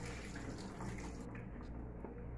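Tap water runs in a steady, full rush while chicken feet are washed under it in a kitchen sink, close and continuous with no speech.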